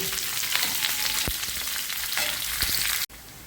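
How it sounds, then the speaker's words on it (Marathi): Onions frying in a pan for a vegetable curry paste, a close, steady sizzle with a few sharp spatula knocks, cutting off abruptly near the end. "आता आपण कांदा थोडासा भाजत आलेला आहे"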